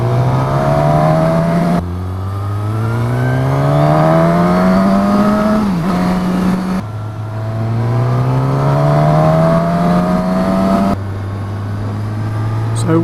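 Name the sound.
2019 Suzuki Katana motorcycle accelerating, 150 horsepower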